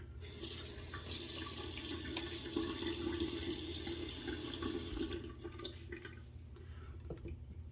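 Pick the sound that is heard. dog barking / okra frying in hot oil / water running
water running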